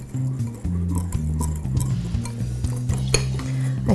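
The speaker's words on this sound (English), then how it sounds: "And then whisk that around" Lemon blueberry cake batter being whisked in a bowl with maple syrup, quick clinking strokes of a metal whisk against the bowl in a steady close rhythm, no voices.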